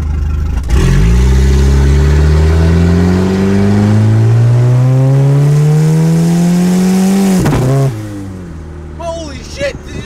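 A turbocharged wagon's engine pulls hard in first gear, a loud, rising roar building steadily for about seven seconds before an abrupt lift-off, with voices around it.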